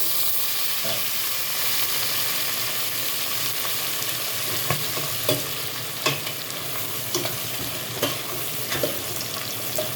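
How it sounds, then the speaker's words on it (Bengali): Vegetables, shrimp and chicken for Szechuan fried rice stir-fry in a pan with a loud, continuous sizzle, punctuated by periodic scrapes and knocks of a spatula stirring the mix. "দেখুন কি সুন্দরভাবে সব সবজিগুলো ভাজা হয়ে গেছে, চিংড়ি মাছ, চিকেন সব এর মধ্যে মিশে গেছে একদম"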